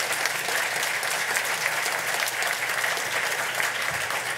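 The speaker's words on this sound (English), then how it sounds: "Let's give them all a round of applause." An audience applauds a panel at a climate change discussion with dense, even clapping that holds steady and fills the room without pause, and no voices come through.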